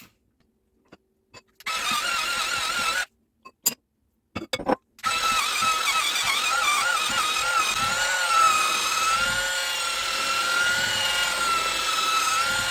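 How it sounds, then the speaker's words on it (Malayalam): An electric mixer beats eggs into plum cake batter, starting and stopping with a few short bursts, then running as a steady, close, whirring drone for several seconds. "മുട്ട ഇതിലേക്ക് മിക്സ് ചെയ്തെടുക്കുവാണ്."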